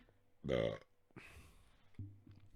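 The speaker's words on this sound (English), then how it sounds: "I'm gonna burp." A single loud, throaty burp from a podcast host rises briefly and stands alone, followed by a few faint clicks and some quiet speech.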